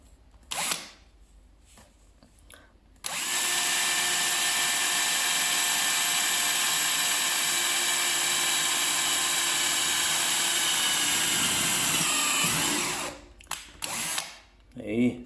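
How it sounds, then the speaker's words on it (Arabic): An electric drill runs continuously for about ten seconds at a steady high whine, loud and close, while fitting a fuse box on a Land Cruiser 76, with brief handling noises before and after. "او ماكينة الدرل يعني"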